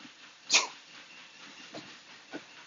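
A dog barks once, sharp and close, while running on a treadmill, followed by a few softer huffs of panting breath over a steady low background hum.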